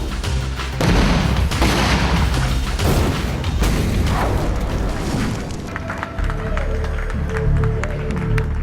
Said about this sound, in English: Shotgun mortar hits the door, blows the door open